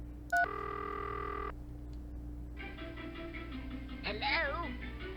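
A telephone is dialed in the video game The Manhole, with a short burst of steady electronic keypad tones, followed by a faint melodic tune over a low background hum.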